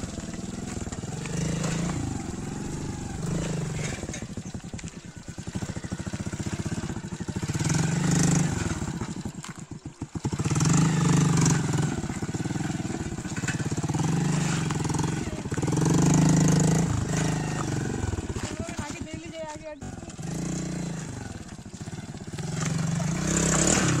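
A motorcycle engine runs loudly and continuously close by, rising and falling in pitch as the damaged bike is moved out, with rattling and brief dips in between.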